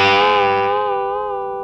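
Electric guitar through distortion and effects plays a sustained bluesy line, a rich chord-like tone ringing out loud and alone, then slowly decaying.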